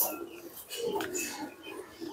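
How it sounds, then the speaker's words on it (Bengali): Pigeons coo softly on a rooftop garden, a few low rounded calls rising and falling over faint background hiss, distant and fairly quiet. "এরপরে যে কবুতরের হাঁক ডাক"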